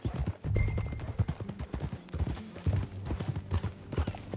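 Horses trotting in a video game, with a steady rhythm of close hoof clip-clops, a brief whinny, and low voices talking over them.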